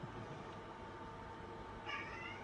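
A house cat meows once, faint and brief, near the end over quiet indoor room noise.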